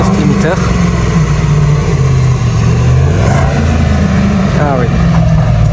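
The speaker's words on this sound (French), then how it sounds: "Et on entend un soft limiter." A Mercedes GLS 63 AMG engine held against its soft limiter, the exhaust valves open, giving a loud continuous low drone with small wavering rises, while voices talk over it.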